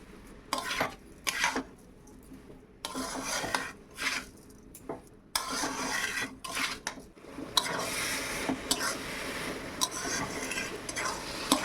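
Sugar syrup for patishapta filling stirred in a pan, a spoon scraping and rubbing against the metal in irregular bursts with short pauses between, close and fairly quiet, with no talking.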